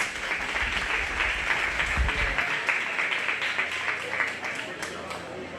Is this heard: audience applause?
yes